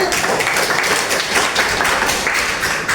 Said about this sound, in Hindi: इनके लिए भी ताली